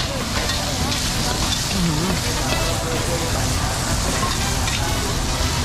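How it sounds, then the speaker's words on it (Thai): Loud, constant sizzling and crackling of food stir-frying in a wok engulfed in flames at a suki restaurant, with stirring scrapes and a roaring flame underneath. "ไฟลุกท่วมกระทะเลย"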